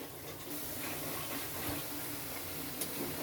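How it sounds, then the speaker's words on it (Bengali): Rice-flour jhinuk pitha frying in hot oil in a pan give off a steady, continuous sizzle with a soft hiss, fairly close and even throughout, with no talking. "তেলটা গরম হয়ে গেছে এখন কয়েকটা পিঠা এভাবে দিয়ে আস্তে আস্তে ভেজে নেব"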